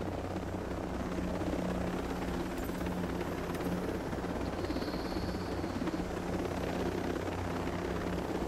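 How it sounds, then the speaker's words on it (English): A slow helicopter flies in a video game, its rotor thudding in a steady, loud, continuous drone with a faint whine above, no voices present. "Couldn't have got a slower helicopter,"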